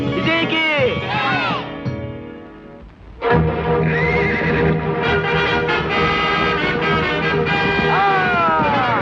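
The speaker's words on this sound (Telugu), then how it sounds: "ఇదెట్ట గుర్రం వెనక్కు పోతుందో." A wild horse whinnies loudly and repeatedly in a forest setting, with snorts and clip-clop under dramatic film music and shouting voices that carry on throughout.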